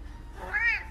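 A sung meow in a children's song, one short rising-and-falling cat-like call, clear and close over soft background music. The meow is a human voice imitating a cat.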